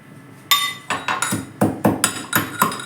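Black pepper, cloves and cinnamon with turmeric are pounded in a mortar, making about nine sharp knocking thuds with a slightly hard, clinking ring, close and uneven in rhythm.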